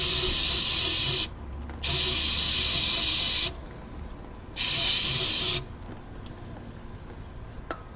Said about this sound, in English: with some brake cleaner